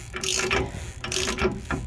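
Ratcheting hand tool clicking in two quick bursts while working an aftermarket removal tool to pull a Meritor pivot bushing out, each burst a close, sharp run of metallic pawl clicks, heard alone.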